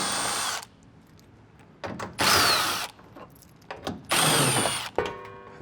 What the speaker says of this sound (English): take our 8mm socket and just remove all these bolts